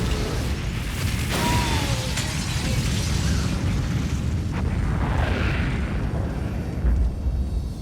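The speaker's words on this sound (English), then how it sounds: "I heard the sound of an explosion just before it cut off" A deep, rumbling roar fills the whole stretch, loud and sustained, like a blast aboard a private jet followed by churning debris and turbulence with no voices.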